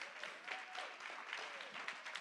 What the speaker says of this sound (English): I want everybody to give my panelists a round of applause